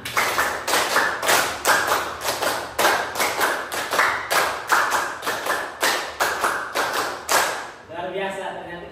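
A class of children clapping in unison in a classroom, repeated sharp group claps in steady rhythmic bursts, loud and close, with a teacher's voice briefly underneath.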